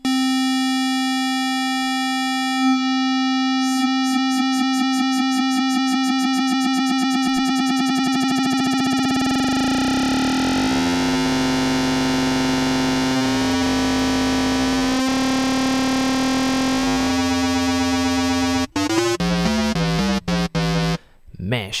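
A Native Instruments Massive software synth tone with its sine modulation oscillator set to 12 semitones: a loud, steady sustained tone whose harmonics sweep and warp into a shifting metallic buzz, ending in abrupt glitchy changes.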